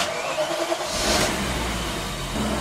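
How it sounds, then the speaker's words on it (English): A BMW E34 engine cranks briefly and catches, a loud starter whir giving way to a rising rumble that settles into a steady running idle close by. "Now we're going to try and crank the car."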